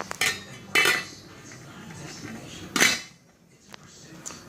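A lid set onto a cooking pot, giving a few sharp metallic clanks spaced over several seconds, close and fairly loud, with quieter clinks between and no talk.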